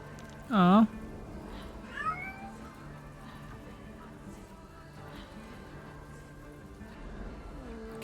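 A furious cat in a video game lets out a loud, wavering meow near the start, followed by a fainter short yowl a second later, with a quiet game backdrop and another faint cry at the end.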